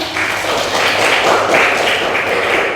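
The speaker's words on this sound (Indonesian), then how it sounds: "Silahkan berikan tepuk tangan dulu teman-teman." Classmates applaud a student presenter at a school group presentation, a steady dense patter of many hands clapping together, fairly loud and continuous with no talk over it.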